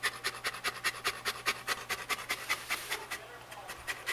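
A large Saint Bernard dog panting close up, fast, even rhythmic breaths in quick succession with a slight rasp, fairly quiet, with no talking over it.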